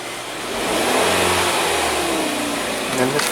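A Hyundai Tucson engine with a cam and crank correlation fault and improper timing rises in a throttle rev, holds briefly and settles, heard close up with a voice in the background.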